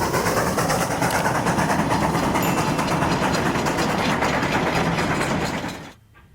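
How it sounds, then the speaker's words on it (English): A historic passenger train climbs the grade near Cumbres Pass above the San Luis Valley, a loud, steady rumble of engine and rolling cars with rhythmic clatter that cuts off abruptly near the end. "leads this historic set of passenger equipment up out of the San Luis Valley near Hangman's Trestle and up Gravity Hill"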